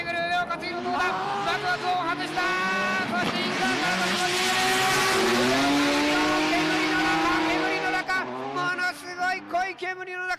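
Drift cars battle at a D1 Grand Prix round at Autopolis, engines screaming and revving hard with rising and falling pitch and tire squeal, loud and continuous under a commentator's voice.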